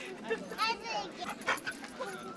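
A dog whimpers and lets out short yips amid excited human voices, its thin high cries rising and falling close by.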